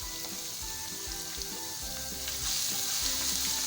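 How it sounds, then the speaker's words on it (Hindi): Finely chopped ginger and garlic fry in hot oil in a pan, a dense, continuous sizzle with light stirring scrapes, close and steady, growing a little louder toward the end, no voices. "अच्छे से फ्राई करेंगे"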